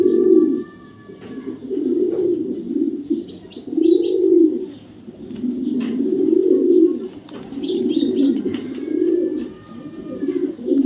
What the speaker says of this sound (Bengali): এখানে দেখাবো আরেকটা মাক্সি রেসার কবুতর